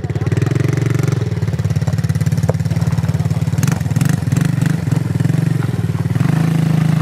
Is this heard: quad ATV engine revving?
yes